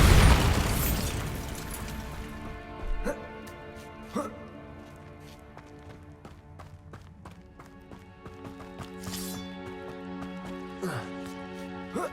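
Bombarda spell explosion in Hogwarts Legacy: a loud boom at the start that rumbles and fades over a couple of seconds, followed by scattered smaller bangs and clattering game effects, with speech in between.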